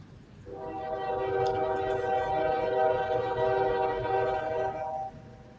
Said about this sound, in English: There's your trains